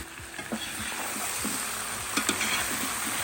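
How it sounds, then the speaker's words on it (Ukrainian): Tomatoes and apples being stirred into a sizzling kazan of frying potatoes and pork ribs, with repeated scraping stirs and soft clatters over a steady, close fry. "додаємо помідори і яблука. І теж перемішуємо"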